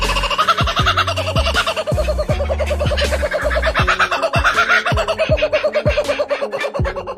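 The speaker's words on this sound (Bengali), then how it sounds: "একটি পাখি মন খুলে সুর তুলেছিল" A bird sings loudly and close up in a rapid, rhythmic run of repeated gobbling notes, with low thumping beats pulsing steadily beneath the song throughout.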